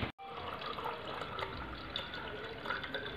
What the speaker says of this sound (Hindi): वेट पानी पी लेती हूँ।